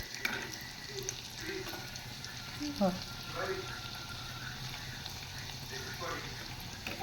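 Taro leaf rolls (alu vadi) fry in oil over a medium flame, giving a steady, close sizzle that runs throughout, with a few brief utensil or stirring noises mixed in.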